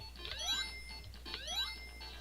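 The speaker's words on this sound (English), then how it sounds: "That is a very annoying beeping sound." Electronic beeps from the Sonic 3 and Knuckles video game sound in two quick bursts of rising chirps, faint and thin against a low steady hum.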